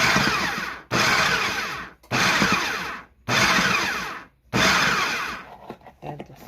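Food processor pulsing butter into vegetable quiche dough, five loud whirring bursts of about a second each separated by short pauses, then a few softer knocks at the end.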